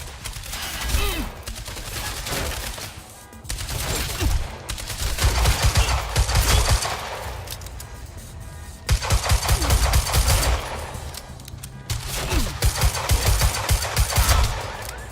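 Sustained automatic gunfire in the Quantum Break video game, dense rapid bursts rolling in several long waves with brief lulls between them, loud and continuous with a few distant shouted callouts mixed in.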